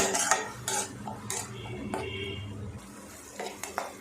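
Utensil clinks and scraping as onion-garlic masala is stirred and fried in a pan over a low flame, several sharp metallic taps over a soft steady background.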